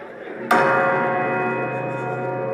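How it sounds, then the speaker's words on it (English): A single strike on an anvil used as a bell rings out sharply, then hums with a long, steady metallic sustain that slowly fades. "they've made an anvil into a bell"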